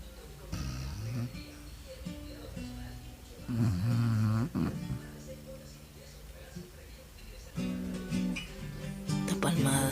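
A tired pet dog sleeping with its head on a pillow snores in loud, rough bursts at close range, separated by quieter stretches, with people talking softly nearby.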